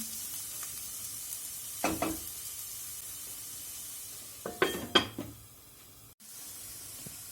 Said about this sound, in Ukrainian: І трішки присмажимо ще морквинку.